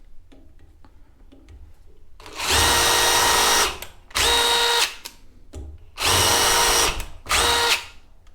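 An impact driver set up as a drill and run at speed 3 with the workpiece held in a vise gives four loud, steady whirring bursts of about a second each, with short quiet gaps between them.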